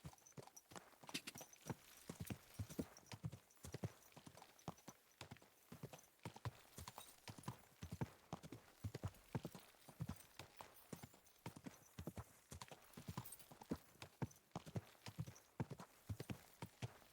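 Horse hooves clip-clop steadily on a road near a house, an even rhythmic clatter of close, fairly faint footfalls, with occasional faint voices.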